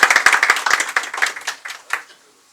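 Audience applause at a cultural society literary event, a burst of brisk hand clapping from a small crowd that thins out and fades to silence within a couple of seconds.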